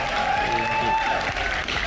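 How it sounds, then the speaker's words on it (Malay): Audience applause for a coconut-fibre boat entry at a junior innovation competition final, steady clapping filling the short stretch over a constant hum, with a voice faintly present. "Tepukan untuk bot sabut"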